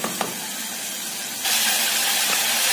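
Onions frying in a pan, a steady loud sizzle that suddenly grows brighter and louder partway through, with no voices.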